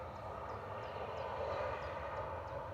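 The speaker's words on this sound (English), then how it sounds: "Ryanair departing now." A Ryanair airliner departing Manchester Airport, a steady distant engine roar holding level throughout, with faint chirping in the background and no talk.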